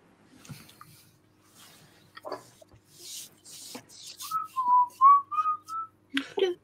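A person whistles a short wavering tune of several notes after some scattered rustling and faint voices, close and clear.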